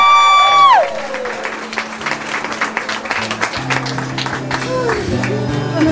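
Applause from a live show audience at The Shorebird swells in after a sustained sung or played note fades, with claps and crowd noise continuing under instrumental tones.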